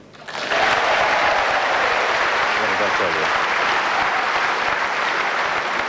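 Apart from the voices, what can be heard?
snooker audience applause and cheering after a pot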